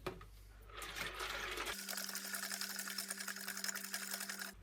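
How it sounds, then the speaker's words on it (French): Water runs into a jar of sprouting buckwheat during rinsing, a soft splashing and trickling that turns into a steady, faint filling stream with a pitched hum behind it. "je voulais juste vous montrer comment je fais le rinçage"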